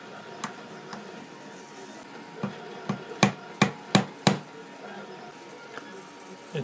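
A hammer drives a bearing into a 3D printed RC car differential housing, with a run of sharp metallic knocks, three scattered early and then five quick, louder blows close together, against a quiet background.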